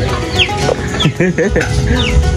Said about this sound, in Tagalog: Ayan yung mga manok na Ninong, ang rami